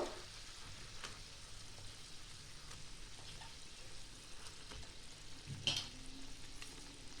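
Pieces of bhola fish go into boiling mustard gravy in a home kitchen, giving a faint, steady sizzle and bubbling throughout with a few soft clicks and taps.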